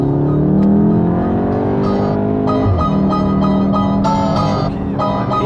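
A Volkswagen Golf with a DSG gearbox accelerates hard, its engine note climbing in steady harmonic sweeps, then dropping sharply at a quick gear change near the midpoint before rising again, loud and close from inside the cabin.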